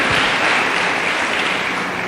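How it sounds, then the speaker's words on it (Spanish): A church congregation bursts into sustained applause at a plenary gathering, a dense, steady wash of clapping that stays loud and even for its full length, with no voices rising above it. "Aplauda su poderoso nombre."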